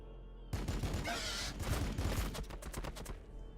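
Gunfire from units firing in the Warhammer 40k: Battlesector strategy game, a dense rattling barrage of rapid shots and booms that sets in abruptly and continues steadily, loud and close, fading slightly at the end.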